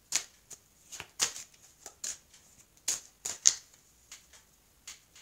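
An oracle card deck is shuffled and cut by hand in a series of crisp riffles and taps, about a dozen short bursts at an uneven rhythm, close and fairly quiet with no talking.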